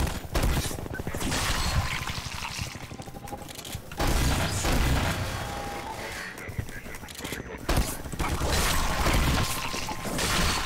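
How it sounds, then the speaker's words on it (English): Panic Attack shotgun blasts in Half-Life 2: Lambda Fortress as a Soldier, loud repeated booming shots mixed with crashing impacts and dense game noise throughout. "What I'm doing is just shooting them with the panic attacks"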